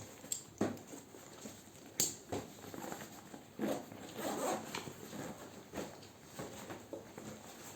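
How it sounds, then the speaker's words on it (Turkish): A side zipper on a Decathlon Solognac X-Access 45 L compact backpack is pulled open in several rasping strokes with pauses, mixed with fabric rustling and buckle handling, close and fairly quiet. "şu yan tarafında fermuarını açalım"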